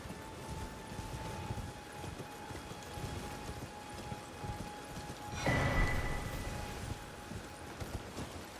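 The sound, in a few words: horse galloping in video game Elden Ring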